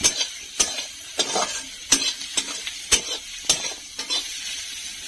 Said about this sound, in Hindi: यहाँ देखिए प्याज भुंजा रहा है